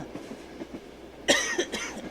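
A person coughs once sharply at close range, a sudden harsh burst with a brief trailing rasp, standing out over a faint background.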